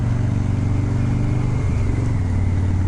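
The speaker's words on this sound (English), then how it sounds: "The engine sounds a little healthier." A car engine idles steadily with a low, even rumble, a brief shift in pitch partway through, then settles back to a smooth hum.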